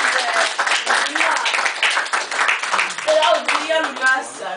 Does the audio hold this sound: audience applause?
yes